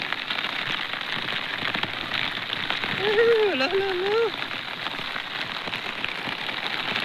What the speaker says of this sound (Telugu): భారీగా వాన